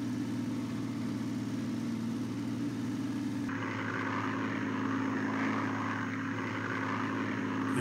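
A propeller aircraft in a flight simulator game set at El Alamein in 1942 drones steadily and loudly. The engine tone holds continuous and close, then shifts brighter partway through, with no voices.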